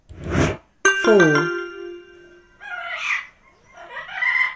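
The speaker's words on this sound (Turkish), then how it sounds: "Bu bir papağana benziyor." A parrot call from a children's English pets lesson: a short harsh squawk, then a bright falling whistled call with strong harmonics, followed by brief chattering bursts, close and clear.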